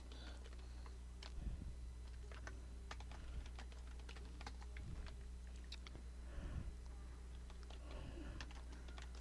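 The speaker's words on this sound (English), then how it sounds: "if you type an event here" Soft, quick keystrokes tap on a computer keyboard at a steady, uneven pace, quiet and close, with no one speaking over the clicks.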